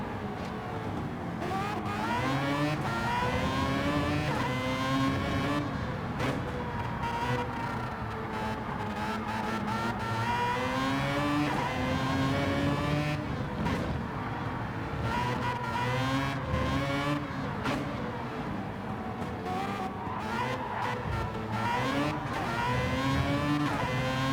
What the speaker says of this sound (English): Great sounding engine though.